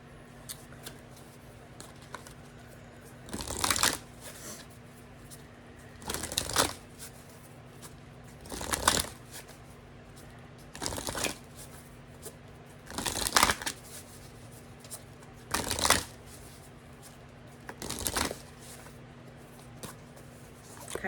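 A deck of Animal Oracle cards is shuffled in repeated riffling bursts, about eight evenly spaced rounds a couple of seconds apart, close and fairly quiet with soft handling noise between them.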